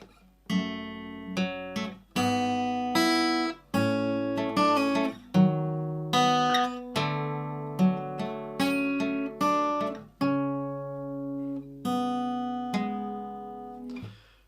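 A clean, sustained guitar intro to a song, with plucked chords and single notes ringing out in a moderate, repeating phrase, played alone without any voice.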